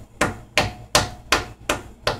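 A stale oatmeal cookie, hard as a rock, rapped against a surface six times in a steady rhythm, each knock a sharp close hard tap.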